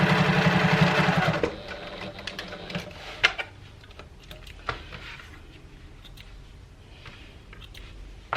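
Sewing machine basting the pieces of a fabric tote bag, a loud fast whirring run for over a second up close, then quieter handling clicks and faint rustling.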